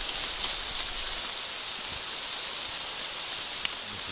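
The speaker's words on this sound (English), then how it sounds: "the rain's having one last crack at us before we go" Steady rain falls across the rainforest at Taman Negara, a constant even hiss with a few faint sharper drips, no voices.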